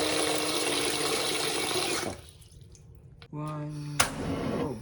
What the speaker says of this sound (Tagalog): Lagyan muna tayo ng tubig.